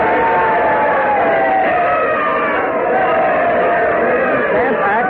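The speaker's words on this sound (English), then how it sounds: "The crowd cheering wildly there." A crowd roars and cheers wildly at news that the 1765 Stamp Act won't be enforced, a loud, sustained wall of many shouting voices with no break.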